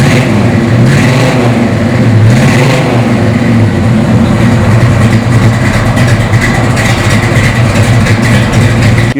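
A 1969 Chevrolet Camaro RS SS 396 convertible runs loud and close, its deep engine rumble steady with a slight swell early on and no voices over it.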